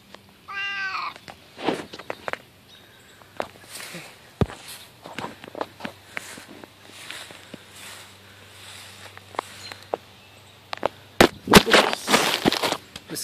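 A cat meows clearly up close near the start while walking through a backyard, followed by soft footsteps and rustling in the grass, with scattered louder thumps and patter toward the end.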